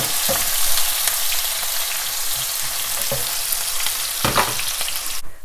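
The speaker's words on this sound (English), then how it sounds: "And I'm going to add some cumin seeds and then add the onion." Chopped onion frying with cumin and fenugreek seeds in a pan for an eggplant curry: a loud, continuous sizzle with a few clicks of stirring, and no talking.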